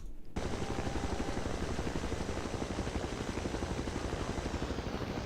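Helicopter in the Battlefield video game, a loud, steady rotor chop with rapid, even pulsing that starts abruptly and holds constant throughout, no speech.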